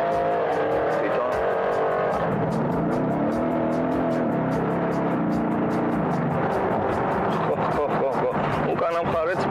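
A racing car drives past with a loud, steady engine roar throughout, with some tyre noise and voices faintly mixed in.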